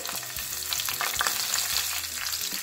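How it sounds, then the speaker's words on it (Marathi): Finely chopped green chillies and crushed garlic sautéing in hot oil in a pan, a steady close sizzle with occasional stirring scrapes, no voices. "थोडंसं आपल्याला हे परतवून घ्यायचं आहे।"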